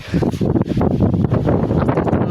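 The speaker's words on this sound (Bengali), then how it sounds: "চারিপাশে কিন্তু অনেক জোরে বাতাস করছে" Strong wind ahead of a storm buffets the microphone in loud, continuous gusts, with rustling and roaring bursts throughout.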